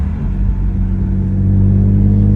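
Engine of a BMW M3 car, reported to sound bad with gearbox noise, running at a steady, loud low rumble that rises slightly in intensity, close and continuous with no talk.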